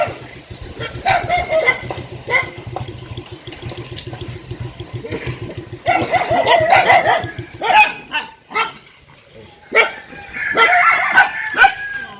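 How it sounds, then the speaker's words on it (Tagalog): Dog barking at a relative's house, several sharp barks in bursts mixed with chickens and a rooster nearby, loud and close, with water sounds under them. "Ay, na may aso."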